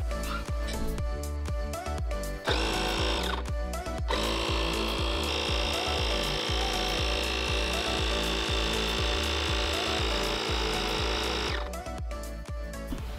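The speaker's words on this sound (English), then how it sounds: "make sure you set your air compressor to 14" A small electric air compressor runs until it reaches its set pressure of 14, a loud, steady mechanical rattle and drone with rapid pulsing that starts abruptly and cuts off near the end.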